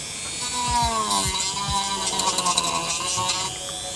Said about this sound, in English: So just a little bit more sanding on there now that I've got an edge.